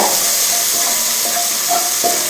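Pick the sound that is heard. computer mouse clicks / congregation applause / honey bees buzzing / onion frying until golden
onion frying until golden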